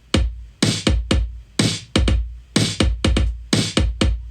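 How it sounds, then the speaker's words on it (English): Punchy electronic beat of kick and snare drums, sharp deep thumps alternating with bright cracking hits in an uneven, syncopated rhythm, each hit decaying quickly, loud and alone without any talking. "And the kick in the snare sounds like this"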